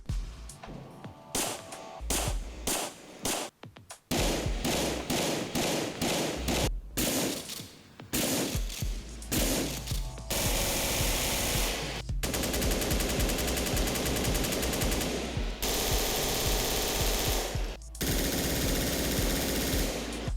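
Loud, realistic modded gunfire in GTA IV: rapid automatic bursts and single shots crack in dense volleys for about twenty seconds, with brief pauses between strings and no talking.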